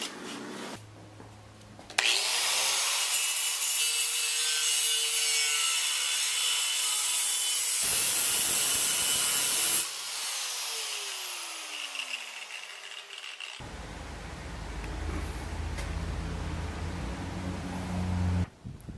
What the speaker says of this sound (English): I need to cut this tab off here, and then this one here to that corner.